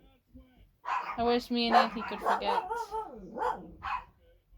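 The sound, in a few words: dogs barking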